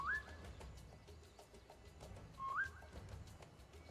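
A player character whistles at a creature in the video game Beasts of Maravilla Island: two short rising whistles, spaced apart, over faint rhythmic ambient ticking and a low rumble.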